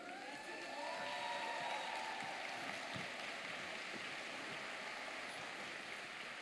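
Audience applause in a conference hall at a happiness congress, welcoming a speaker onstage; steady dense clapping fills the whole stretch at even loudness, with no talk over it.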